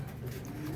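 Racing pigeons coo softly in a loft, a low steady murmur close by with no one speaking.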